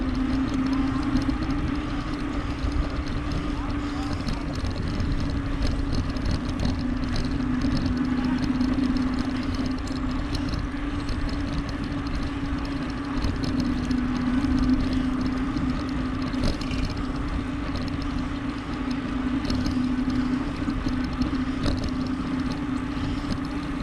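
An aircraft engine idles while staging near an airport on Airport Drive North, a steady droning hum with a constant tonal whine that holds at a moderate distance without pause.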